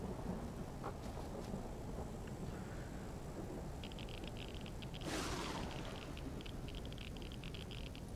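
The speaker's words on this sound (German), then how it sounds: "Und hier gewittert's." Thunderstorm in the survival game Empyrion Galactic Survival: a steady wash of rain and wind, with a sudden louder rumbling burst of thunder midway and a high pulsing tone running underneath.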